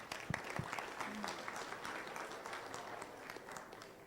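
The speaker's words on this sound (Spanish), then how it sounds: "Un aplauso para Karina, por favor." Audience applause for a woman named Karina at an energy-efficiency management seminar, a steady wash of clapping from a modest crowd lasting the whole stretch, with a few sharper nearby claps early on.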